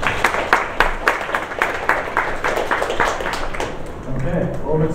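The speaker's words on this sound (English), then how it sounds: "Let's have a round of applause" An audience at a junior hackathon show-and-tell claps in a burst of applause, dense rapid hand claps close by that thin out toward the end, with some voices mixed in.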